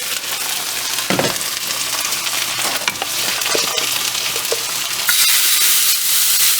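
Steady, loud sizzling of shrimp frying in a hot pan, with occasional clatter of stirring over the continuous crackle.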